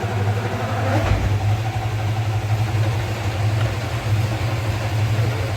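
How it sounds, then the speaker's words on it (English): A Chrysler Valiant car engine running steadily with a deep, low rumble and a brief surge in the first second, loud and close, with no voices. "now put your foot on the clutch and start it up again"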